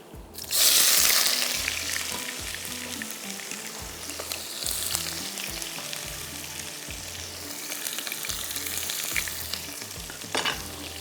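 Tomatoes hit a hot pan with a loud burst of sizzling and crackling, then fry steadily under repeated stirring scrapes, with brief flare-ups of hiss along the way.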